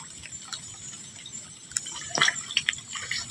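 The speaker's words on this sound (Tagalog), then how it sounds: "Kita nyo ba yung tulo ng ulan?" Rain drips at night outdoors during a crab hunt, with soft patters and a few brighter close drops over a quiet hiss of falling water and steady insect buzz.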